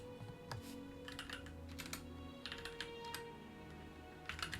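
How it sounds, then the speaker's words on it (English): Someone types in quick bursts on an Aula F75 mechanical keyboard, with crisp, close key clacks and short pauses between runs. The sound is quiet and there is no speech. "the Aula F75 is a really good mechanical keyboard"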